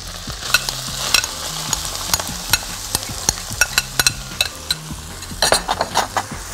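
Rice being stirred as it fries in a pan with oil, toasting a little before vegetables and spices go in: a steady close sizzle broken by repeated spoon scrapes and clacks against the pan, with no talking.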